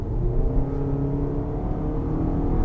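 A diesel Hyundai Santa Fe 2021 in comfort mode accelerates with a steady, low engine drone and mild revving that stays constant and close throughout, with no talk.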